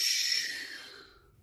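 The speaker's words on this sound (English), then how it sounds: "Breathe in and blow out." A person exhales a long, breathy blow-out while holding a stretch, close and fading over about a second.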